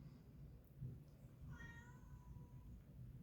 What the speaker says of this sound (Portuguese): E se vocês ouvirem um miado, é um dos meus gatos.